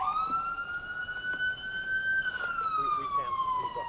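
A steady police siren wails continuously in Dallas, its pitch sliding slowly up and then down, with faint background commotion and voices underneath.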